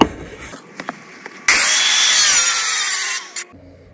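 Power grinder test on the bodywork of a Renault 4L under restoration: a few faint clicks, then a loud, sustained high-pitched grinding roar for almost two seconds before it cuts off.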